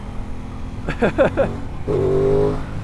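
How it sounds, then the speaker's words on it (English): A 2024 Aprilia Tuono 660 Factory motorcycle engine fires off three quick rising throttle blips, then holds a steady, loud, full-throttle drone close by. "it's still got that nice little punch if you give it all the throttle"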